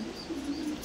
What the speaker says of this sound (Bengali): এগুলি সব রিংয়ের পাখি।